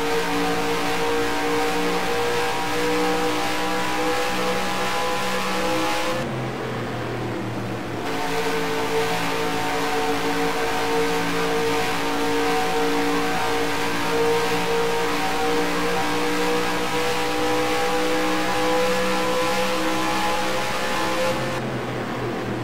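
Race cars in the F5 Cup at Texas, with engines droning steadily and loudly throughout and sustained high revs that dip briefly twice as cars pass.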